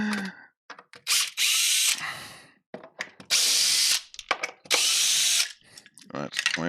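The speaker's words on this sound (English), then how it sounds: "See, power tools, that's where it's at." A power drill runs in repeated loud bursts of a second or so during a workshop rebuild, with short clicks and quiet gaps between the bursts.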